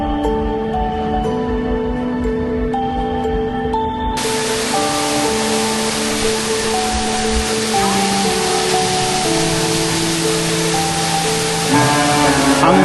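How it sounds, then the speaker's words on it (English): Rushing water at Concord waterfalls in Grenada, a loud steady broadband roar throughout with sustained tonal music over it. "Cannondale waterfalls."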